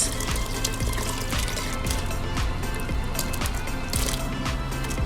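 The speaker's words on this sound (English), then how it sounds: "I added my meat stock to the pot" Meat stock pours steadily into a pot of beans for a beans and plantain pottage, a continuous close splashing and gurgling of liquid with no talk.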